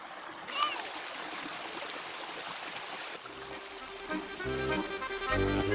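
A forest stream flows with a continuous broad rush and light splashes, while faint voices come and go over the water.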